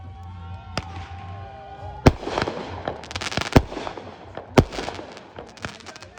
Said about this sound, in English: I started lighting off mortars.